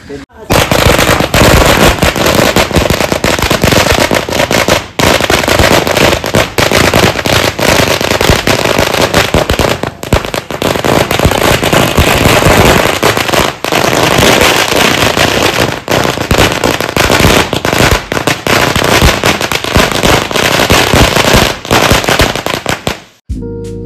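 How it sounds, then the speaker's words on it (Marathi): Firecrackers set off during a village celebration after a cricket trophy win, a loud, dense stream of rapid crackling bursts like a long string of bangers, nearly continuous for over twenty seconds with brief gaps. "आपण फटाके फोडूया"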